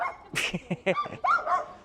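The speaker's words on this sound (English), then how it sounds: "That's my dog's barking" A dog barks several times in quick succession, with a short whimpering yip at the end, fairly close and clear.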